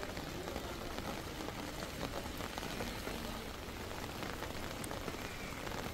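Heavy rain over the city of Bhiwandi, Maharashtra, a dense continuous hiss of drops hitting surfaces, steady and close throughout with no pauses.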